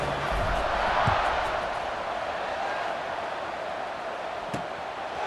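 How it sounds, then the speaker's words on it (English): A stadium crowd in EA Sports College Football 26 buzzes steadily after a score, a broad, continuous roar that fills the space evenly, with a couple of faint thumps and no clear voices above it. "this crowd is buzzing after that last score"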